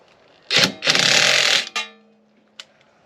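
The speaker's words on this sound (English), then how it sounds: "let me see the drill" A power drill whirs in two short, loud bursts close by, then winds down, followed by a faint click.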